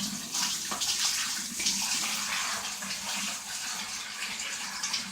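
Water pours steadily out of a draining tank through an enlarged hole, a continuous close rushing gush that holds an even level for several seconds with no talking.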